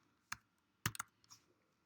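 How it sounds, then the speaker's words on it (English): Several quiet, separate clicks of keys on a computer keyboard come in a sparse, uneven rhythm as a word is typed, close and soft with no talking. "I'm just going to type in the word office."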